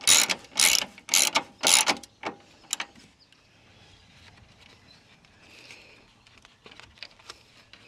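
Ratchet tightening bolts on the radiator support of a 2010-2014 Subaru Outback 3.6 during a radiator replacement, with four loud rapid clicking bursts up close, then fainter scattered clicks and handling noise.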